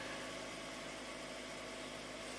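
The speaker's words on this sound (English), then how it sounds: "By the way, the engine just fired up." A Hyundai hybrid car engine idles steadily just after starting, a low, even mechanical hum with slight vibration, heard alone at moderate level.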